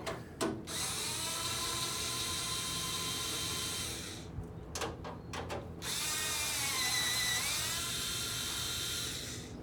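A cordless battery power tool whirs loudly as it removes bolts on a Crown Victoria, running in long steady bursts with a few short stop-start pulses in between.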